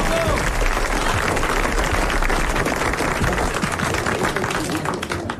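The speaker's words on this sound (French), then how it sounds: "Alors je vais vous demander d'applaudir Madame Matagnier." Audience applause for a woman on a French-language stage or broadcast show: dense, steady clapping that fills the whole stretch, with voices talking underneath.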